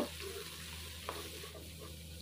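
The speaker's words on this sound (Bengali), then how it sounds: "মাছগুলো আমি ভালো করে ভেজে নিব।" About 200 grams of prawns sizzle and fry in hot oil, a steady, quiet crackling hiss with faint stirring clicks close by.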